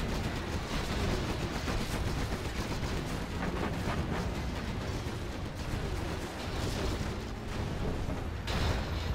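Generals Zero Hour battle in the World Series match, a dense, steady wall of booming artillery fire and gunfire with mechanical clatter, continuous and loud throughout with no voices.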